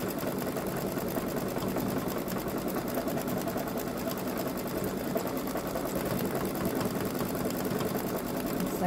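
A Babylock Solaris Vision embroidery machine stitches continuously, a dense, rapid mechanical chatter running at an even pace close up without pause.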